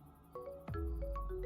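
A mobile phone rings nearby with a short melodic ringtone, several bright tones stepping up and down over a low hum.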